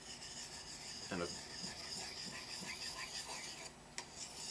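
A hatchet edge is worked with a handheld sharpener, the coarse side moving in circles, making a soft, continuous rasping scrape close up and at low level, with a couple of brief clicks.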